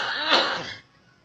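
A myna bird imitates a human cough, a single close, rasping throat-clearing burst that swells briefly and then cuts off into quiet.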